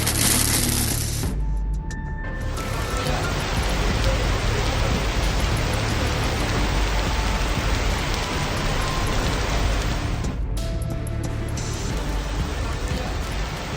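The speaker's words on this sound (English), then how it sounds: "It doesn't happen often that the rain comes down in a solid wall" Heavy rain comes down as a solid wall during strong wind, giving a dense, loud roar that holds steady throughout, with no voices.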